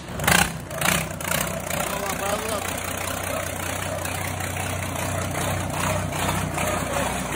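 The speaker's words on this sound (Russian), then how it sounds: "Вот, перебрали двигатель на двенашки. Первый старт." A rebuilt MTZ-1221 tractor engine starts for the first time with two sharp cranking bursts, then settles into a steady low idle running without a turbo or manifolds, under continuous background noise.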